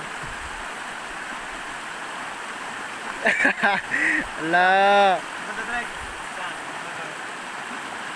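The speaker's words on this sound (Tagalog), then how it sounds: "Medyo malakas lang yung agos kasi umulan kanina eh." Steady rushing water fills the whole clip, a strong river current swollen by earlier rain flowing nearby in a forest, with a brief exclamation from a voice partway through.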